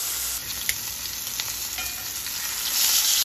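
Steak fries in a hot pan with a loud, dense, continuous sizzle, close up, swelling slightly toward the end before cutting off, with a few faint clicks and no talking.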